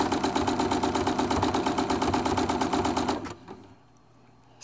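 A sewing machine stitches during free motion sewing with a loud, close, steady rapid chatter of the needle for about three seconds before stopping abruptly, leaving faint quiet.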